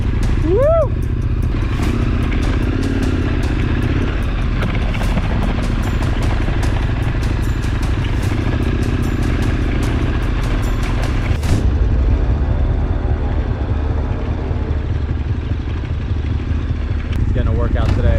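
A KTM 1290 Super Adventure R motorcycle rides along a Colombian mountain route, engine rumbling steadily and close up with wind noise and rattling, while a rider's voice is heard over it.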